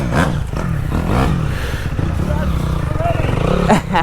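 A 250 dirt motorcycle engine revs hard and loud close by, its pitch rising and falling through the gears on a slippery, rain-wet track, while someone talks over the top of it.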